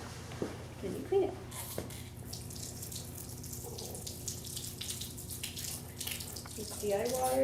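Water runs from a tap into a lab sink while glassware is cleaned, a soft continuous splash with faint clinks and low voices in the background.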